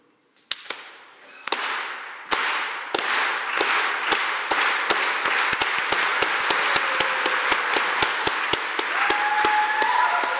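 An audience at a lecture claps in unison, starting with a few sparse claps and speeding up into a fast, steady rhythmic beat over a rising crowd roar, loud and close.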